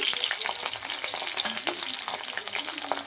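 Raw plantain slices sizzle steadily in hot oil in a pan, a dense crackling fry with small pops and occasional stirring clinks, close and continuous with no talk.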